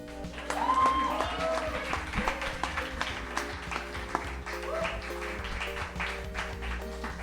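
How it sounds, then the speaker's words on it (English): A small audience claps and cheers for a poet at a spoken-word event in a living-room setting, with scattered, moderately faint applause and a few whoops running throughout. "Ladies and gentlemen, make a round of applause."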